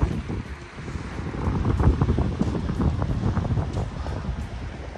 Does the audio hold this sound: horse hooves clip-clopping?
no